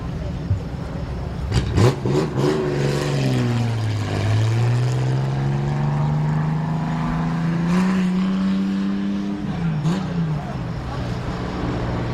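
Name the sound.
race cars racing at Midvale Speedway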